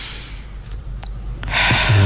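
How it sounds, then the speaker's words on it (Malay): In a breathing demonstration, one sharp, deep in-breath is drawn close to the microphone after a short quiet pause. "kita tarik nafas"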